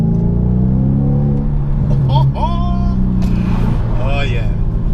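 An Audi S5's deep 4.2 V8 engine rumbles and revs steadily throughout, with brief higher whines and tones over the loud, continuous drone.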